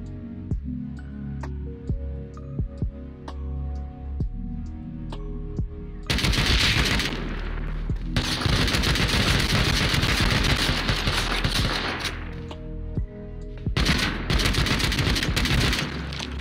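Gunfire in the video game Rust: spaced single shots at first, then long loud bursts of rapid automatic fire with a brief pause between volleys, with no talk.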